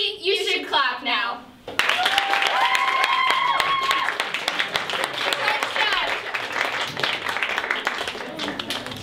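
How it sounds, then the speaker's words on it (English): Theatre audience at a fringe festival stage play breaks into sustained, loud, dense applause after a brief spoken line, with sharp individual claps and some whooping tones over the crowd. "Maybe you should clap now."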